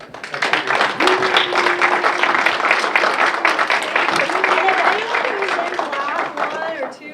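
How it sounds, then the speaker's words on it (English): Clapping rises from a university lecture audience as a speaker series talk closes, a dense patter lasting several seconds while a voice talks over it. "one more applause for"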